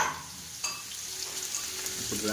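Potatoes and onions fry on a stove for a chicken feast, giving a steady, soft sizzle with a few sharper clinks of stirring near the start and end.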